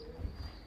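Racing pigeons, cock birds, in a loft, giving a couple of soft low coos, faint and close with a quiet hum in the background.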